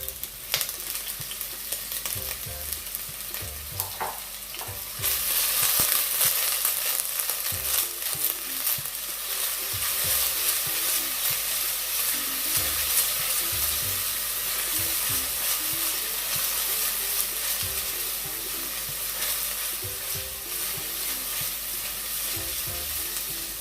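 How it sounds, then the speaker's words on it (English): Chopped onions and garlic sizzling in about a tablespoon of coconut oil for a spaghetti meat sauce, a steady frying hiss with occasional stirring scrapes, close and continuous without talk. "So I'm just going to add my onions to the oil,"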